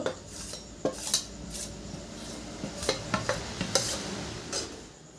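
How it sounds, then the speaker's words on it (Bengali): Dishes and cutlery clatter as rice flour is dry-roasted and stirred in a pan for steamed rice-flour pitha. A metal utensil scrapes and taps against the pan in irregular clinks, close and moderately loud, with no talk. "হালকা করে চালের গুঁড়োটা ভেজে নিব"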